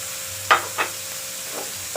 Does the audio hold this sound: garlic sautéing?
yes